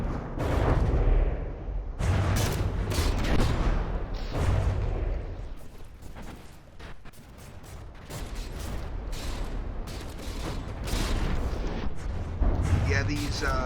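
Shells firing and exploding in the naval combat game From the Depths, penetration rounds striking a ship: loud, dense repeated booms and blasts piling over one another throughout, with talk running underneath.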